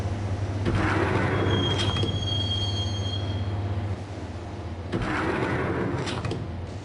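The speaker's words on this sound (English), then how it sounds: "the train doors had already shut behind me, and I was in for the ride" In Max Payne on PS2, a subway train rides with its doors shut: a steady, close rumble of the carriage with thin, high wheel squeals drifting over it.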